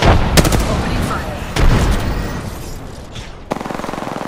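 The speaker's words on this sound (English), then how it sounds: "Opening fire." Gunfire in the video game Apex Legends: loud, sharp shots crack out in bursts, with a rapid run of repeated shots near the end.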